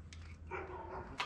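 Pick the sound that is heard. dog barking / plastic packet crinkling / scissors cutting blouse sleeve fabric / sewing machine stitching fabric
dog barking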